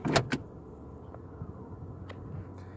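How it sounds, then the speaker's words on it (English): A 2021 Toyota Corolla SE's electronic parking brake engages with a couple of quick mechanical clicks and a brief whir, followed by a faint low hum. "you'll hear the electronic parking brake engage every time"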